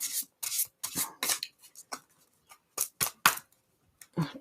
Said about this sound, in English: I'm going to shuffle that back in there.